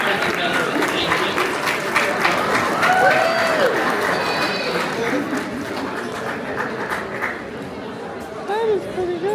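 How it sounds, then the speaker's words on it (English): An audience applauds contestants at a Halloween costume contest at the Princeton University Art Museum. Clapping starts fairly loud and thins toward the end, under chatter and a speaking voice. "Round of applause for each of our contestants."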